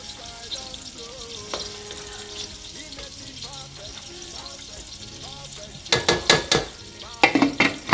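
Shrimps and noodles cooking in a pan, a low steady sizzle under background talk and tones, then a run of louder clattering scrapes near the end.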